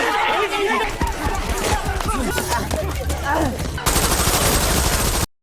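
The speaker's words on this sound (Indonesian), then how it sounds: "membedil semua orang tak pandang bulu" Sustained gunfire in an action film, a doctor opening fire on a crowd, with rapid automatic bursts and sharp shots over shouting and chaotic crowd noise, loud and continuous throughout.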